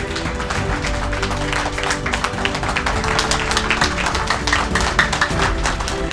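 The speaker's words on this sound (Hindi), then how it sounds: "जोरदार तालियों से शर्मा जी को आगे बुलाएंगे" An audience at a prospecting training event applauds to welcome a speaker. Dense, steady clapping from many hands fills the room, loud and continuous with no pauses.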